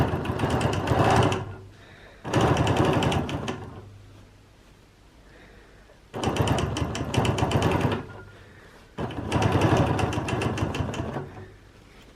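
A quilting machine stitches an edge-to-edge design guided by Lollipop and Every Wave rulers, running in four bursts of fast, steady needle whirring separated by short quiet pauses.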